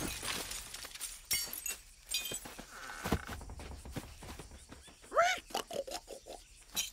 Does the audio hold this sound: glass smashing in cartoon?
yes